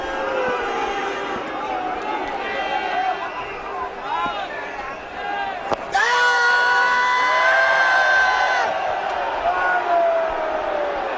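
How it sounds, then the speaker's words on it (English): A large cricket crowd at a 2007 England versus India one-day international roars and screams continuously, with a loud surge of shrill yelling and whooping midway, swelling under the general stadium din. "you got the feeling there's someone screaming"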